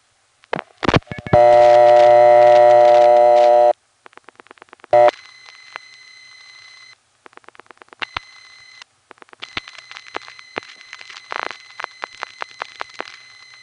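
Dialing through a No. 1 crossbar telephone exchange to the Trafalgar 3 office: a loud burst of rapid clicks, then a long steady tone, followed by repeated short beeps, pulsed revertive signals and clicks of the switching train.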